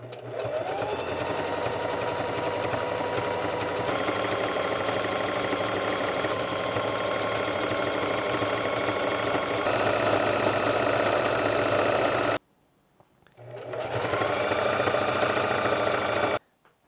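A sewing machine stitches a hoodie waistband, its loud rapid mechanical whirring running steadily close by, stopping briefly, then starting again and stopping at the end.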